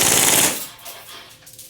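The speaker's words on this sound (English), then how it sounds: "switch that little lever over to full auto, and we're just going to dump a mag on the target here" An Action Army AAP01 Assassin Spec airsoft pistol fires a magazine on full auto in one rapid, loud, buzzing burst lasting about half a second, then fades into quiet room noise.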